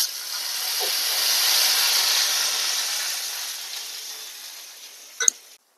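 A tempering with curry leaves for black urad dal chutney is poured into hot oil and hisses loudly, swelling and then fading over several seconds, followed by a single sharp clatter before the sound cuts off.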